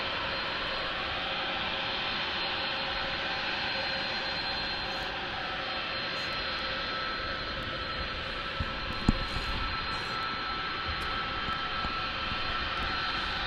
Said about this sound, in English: Checking out this A300 right here.